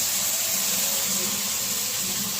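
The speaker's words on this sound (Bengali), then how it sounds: "এই যে জল দিচ্ছি" Water streams steadily into a cooking pot of Bengali shukto, a continuous close splashing and trickling that runs for a couple of seconds without speech.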